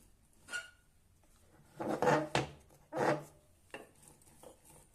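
A greased rolling pin presses and rolls hot roasted chana dal chikki on a flat surface, giving a few separate scraping, rubbing strokes of varied length, close up and fairly quiet, with pauses between them.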